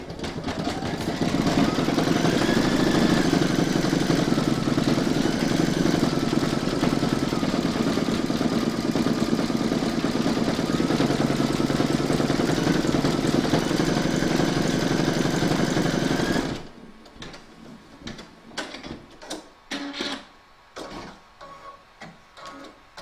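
Embroidery machine stitching an in-the-hoop sloth applique, a loud, steady mechanical hum with rapid needle ticking that runs continuously for about sixteen seconds, then stops, leaving faint scattered clicks and handling noises.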